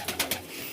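A pigeon with an injured eye coos as it is lifted from inside a loft, giving three short soft coos close by over a steady background hiss, with no talking.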